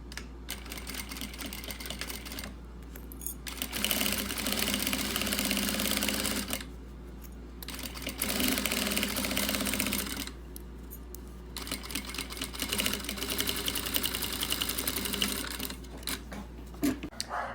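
A sewing machine with a presser foot stitches a fabric lining for a pencil case, running in steady whirring bursts separated by brief pauses, close and alone.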